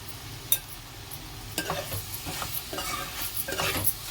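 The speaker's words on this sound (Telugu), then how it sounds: "ఇప్పుడు ఆమ్లెట్ పీసెస్ అనేది పీసెస్కి కట్ చేసుకున్నాం కాబట్టి ఆ పీసెస్ అనేది వేసేసుకొని కలిపేసుకుందాం ఒకసారి" Omelette pieces being stirred into a spiced curry in a pan, for an omelette curry made with meal maker: a gentle sizzle with repeated scraping stirs and a sharp clink, and no talking.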